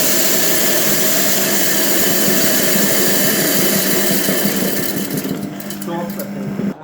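An electric household flour mill runs steadily while mung beans are fed in, a dense continuous grinding drone that thins and becomes more uneven near the end, with a voice talking over it.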